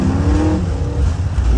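An old school car engine revs hard, a loud, deep throaty roar that rises and falls in pitch as the throttle swells, close and continuous.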